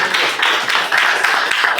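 A church congregation clapping hands in praise: a dense, continuous wash of many hands applauding together, loud and close, with no gaps across the short burst.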